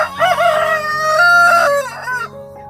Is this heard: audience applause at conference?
no